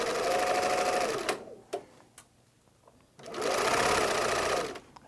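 Sewing machine stitching fabric-covered corded piping in two steady loud bursts of fast, even needle chatter, separated by a quieter pause with a few clicks as the work is adjusted.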